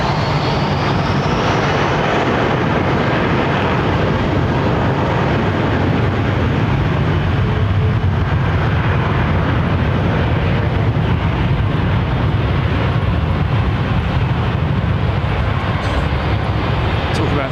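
An old Virgin Atlantic airliner with Rolls-Royce Trent 700 engines at London Heathrow gives a loud, steady jet roar that fills the whole stretch without letting up.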